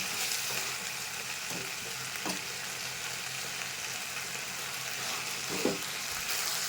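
Ginger garlic paste fries and is stirred in a pan for a vegetable biryani, giving a steady close hiss of sizzling with a few soft scraping strokes and no talking.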